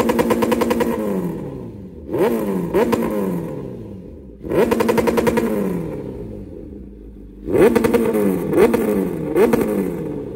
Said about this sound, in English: Alright, first sound of the DC pipe.